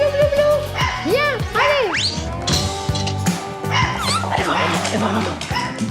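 Very young beagle puppies yip, whimper and give small barks in rapid overlapping bursts, close and loud, while a person talks among them.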